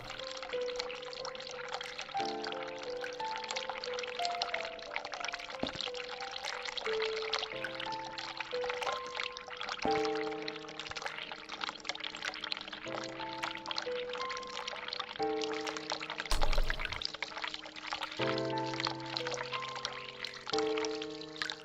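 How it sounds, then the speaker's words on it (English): A hot water tap runs in the video game The Cat Lady, a steady pouring splash heard under a slow melodic music score, with a brief louder burst near the end. "And the hot water tap?"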